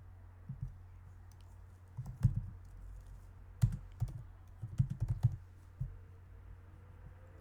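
Typing on a computer keyboard, short irregular bursts of soft key clicks close by over a quiet low hum, with no speech.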